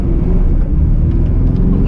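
A 1994 Mitsubishi Delica Starwagon 4x4 turbodiesel cruising on an open road, a loud, steady low engine rumble with road noise, continuous and close throughout.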